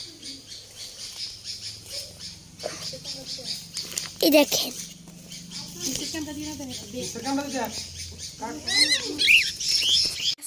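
Small birds call out in sharp squawks and chirps, with two brighter bursts standing out, while someone talks nearby over a low steady background hum; the calls come as a young bird has fallen while learning to fly.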